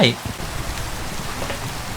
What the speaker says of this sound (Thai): แต่ฝนมันตกมันก็เลยมืดเลย